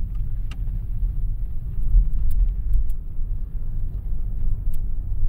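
A new Opel car accelerating with the brake still on, giving a steady low engine rumble heard from inside, with faint clicks on top and no talking.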